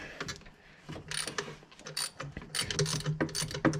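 Ratchet wrench clicking in quick bursts while loosening the first bolt on a radiator shroud during a 2015 thermostat and temperature sensor replacement, with close, uneven ratcheting and brief pauses between strokes.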